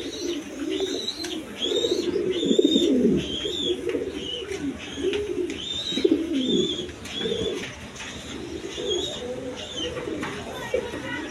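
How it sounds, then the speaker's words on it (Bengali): A breeding pair of Cream Bar Beauty pigeons, feeding two chicks, coo in repeated low throaty rolls close to the listener, with scattered higher chirps from the young birds over faint background noise. "বন্ধুগণ এখানে এক পেয়ার কবুতর আছে,"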